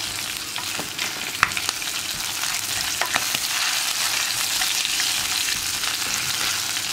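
Chili powder paste sizzles and fries steadily in hot oil on a low flame for a Kottayam-style fish curry, a continuous loud crackle with occasional sharper pops and stirring scrapes.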